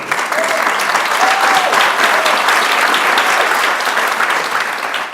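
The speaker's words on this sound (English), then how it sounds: "If you could stand up, give him a round of applause." Sustained audience applause at a bar association and human relations commission anniversary reception, a dense steady clatter of many hands filling the room at even loudness, with faint voices mixed in beneath it.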